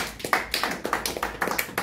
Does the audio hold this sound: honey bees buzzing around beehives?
no